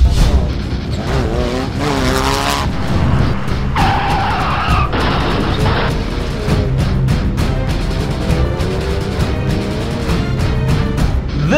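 A four-wheel drive car skids and slides through tight curves on soft desert sand, its engine revving hard under acceleration with continuous loud tire and sand scrubbing throughout.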